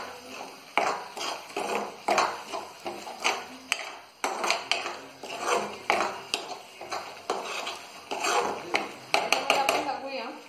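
Spoon scraping and knocking in a pan as fish curry masala for catfish is stirred, a steady run of soft rhythmic clatters close by with occasional sharper taps.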